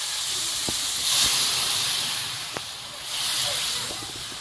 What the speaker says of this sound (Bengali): ডালটা দেবো